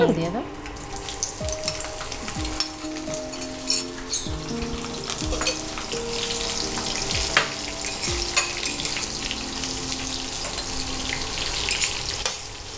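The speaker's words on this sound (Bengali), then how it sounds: "এরপর আমরা পেঁয়াজটা দেবো পেঁয়াজ কুচুনো পেঁয়াজ সবটাই দেবো" Chopped onions frying and sizzling steadily in a pan for a South Indian chicken curry, a continuous close hiss with occasional stirring clatter, no one talking.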